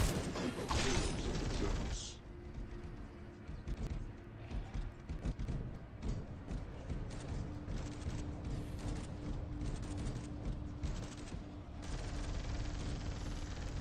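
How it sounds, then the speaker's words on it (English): Heavy sustained gunfire from the Warhammer video game Space Hulk: Deathwing crackles in dense, continuous rapid bursts, with mechanical clanking and a low droning hum beneath, loud and unbroken throughout. "That is a lot of gunfire."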